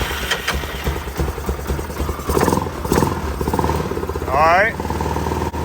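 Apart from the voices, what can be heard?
Yamaha Grizzly 660 ATV engine starting and running on choke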